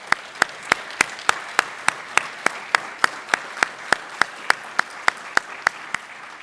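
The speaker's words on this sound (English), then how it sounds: "let's give those folks a round of applause" Parents at a National Signing Day event are applauded with a sharp, evenly spaced series of single loud claps, about four per second, over a soft background of crowd clapping.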